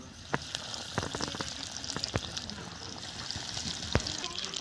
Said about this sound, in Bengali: স্যান্ডউইচগুলো ভেজে নেব।